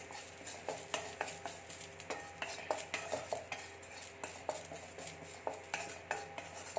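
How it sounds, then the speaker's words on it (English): Curry leaves being fried and stirred in a hot kadai, with quiet, steady metal scrapes and clinks recurring in a regular rhythm over a faint sizzle, with no talking. "curry leaves in the same kadai. If you want, you can add little oil, or in this heat itself, it will fry nicely."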